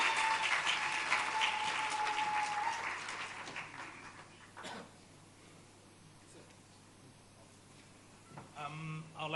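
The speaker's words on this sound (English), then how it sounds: "Another round of applause for Mr." Applause for President Boko at the HATAB annual conference fades from brisk crowd clapping into near silence after about four seconds, then a voice briefly speaks at the end.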